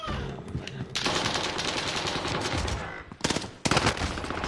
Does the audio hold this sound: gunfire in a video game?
yes